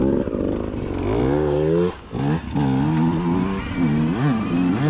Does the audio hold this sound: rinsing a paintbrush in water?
no